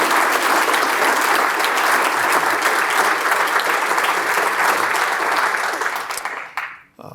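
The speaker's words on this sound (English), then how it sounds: "We have one more round of applause for Richard and Eileen Carr." Audience at a foundation event honoring Richard and Eileen Carr gives a loud, sustained round of applause, steady and full before tapering off abruptly at the close.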